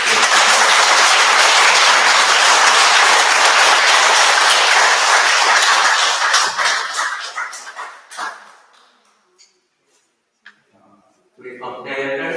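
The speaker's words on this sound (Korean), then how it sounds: "찬탄의 박수로 부탁드립니다." Audience applause at a Buddhist dharma service in a temple lobby, loud sustained clapping from a large crowd that thins into scattered claps and fades to near silence, followed by a voice starting to speak.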